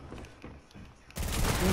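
Video game gunfire: a few faint, scattered shots give way to a sudden loud, sustained burst of rapid fire near the end.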